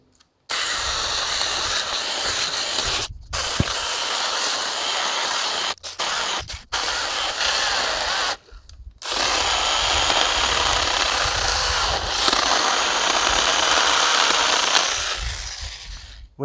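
A Hyper Tough 20-volt cordless chainsaw running in a loud, steady motor whine that cuts out abruptly several times before spinning up again, close and alone without talk.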